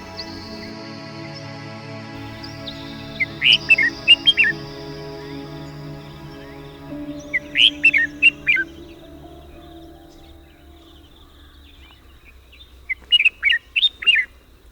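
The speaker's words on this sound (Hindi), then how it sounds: "Crested Bulbul, crested Bulbul." Crested bulbul calling in three separate bursts of bright, quick chirping phrases, each a rapid run of sharp notes, clear against a quiet background hum with pauses between bursts.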